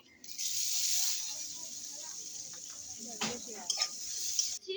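Chopped onion fries with koi fish in oil, making a continuous close sizzle that fades slightly, with stirring scrapes and clinks of utensils near the end.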